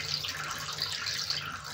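Water trickles steadily into a toilet tank during a leak repair, a continuous soft hiss of running water with a low hum beneath it, close and even throughout.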